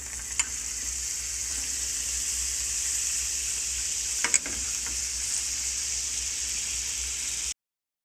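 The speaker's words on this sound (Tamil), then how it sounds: "இதை இனி பட்டரில் வதக்கி எடுப்போம்." Small chicken pieces sauté in butter with a constant, bright sizzle close to the pan, steady throughout with faint stirring clinks.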